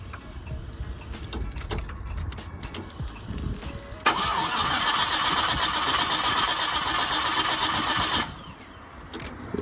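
The LS swap engine cranks with a weak fuel pump, a close, loud mechanical whirring that comes in abruptly partway through, holds steadily for about four seconds without catching and then stops. Quieter rattling and clicks come before and after. No speech.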